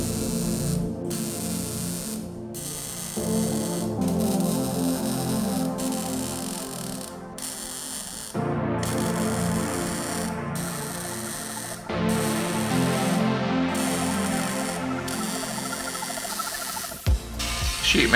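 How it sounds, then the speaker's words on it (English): Sheet metal welding produces crackling, sputtering buzzes in several bursts of a few seconds each, separated by short pauses, close and fairly loud over a faint electrical hum. "And on to welding."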